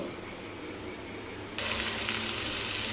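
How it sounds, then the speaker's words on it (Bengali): A paratha flatbread fries in a hot pan with a steady, close sizzle that jumps suddenly louder and brighter partway through, as if fresh oil or batter hits the surface, with no voices. "আগে পরোটাটা ভেজে নেব"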